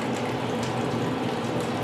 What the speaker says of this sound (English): Go ahead and pour the rest of this beef stock in here.